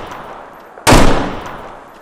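A single loud, close gunshot from Roblox South London 2, a sharp crack that decays quickly after a quiet lead-in, with no voices.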